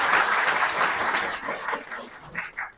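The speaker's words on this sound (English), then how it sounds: "I give them a big round of applause to both the sides." Applause at a university moot court session at Punjab University Jhelum Campus, a brief, muffled burst of clapping that fades unevenly over a few seconds.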